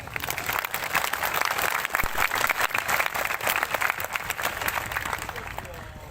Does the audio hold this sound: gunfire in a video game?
no